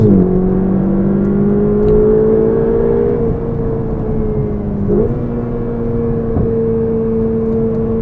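A Ferrari 488 GTB engine accelerates in a steady, loud drone that climbs in pitch through the gears, with brief dips at the shifts and no voices over it.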